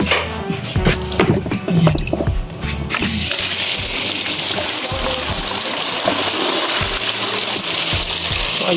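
Water gushes steadily into a container to soak cleaning rags outdoors beside a garden hut, starting with clattering handling sounds and a brief word before a continuous loud pouring stream.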